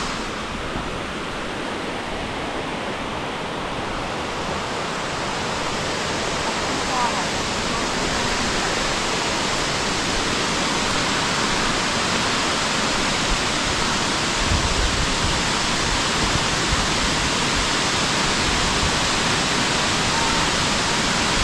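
Erawan Falls waterfall in Southeast Asia, a loud, constant rushing roar of falling water heard up close, steady for the whole stretch with no pauses.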